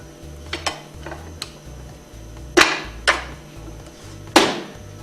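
Sharp metallic knocks and taps as a seal is pressed out of a Hypro 2400 plunger pump with a bolt or pipe, several separate impacts at uneven intervals, close and fairly loud.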